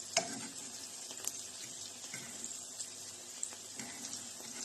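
Chicken liver frying in a pan, giving a continuous close sizzle with occasional sharper spits and pops, with no talking.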